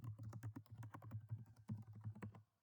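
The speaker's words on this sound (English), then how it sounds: "type your name" Keys on a computer keyboard are tapped in a quick, steady run of soft clicks, close and quiet, ending abruptly near the end.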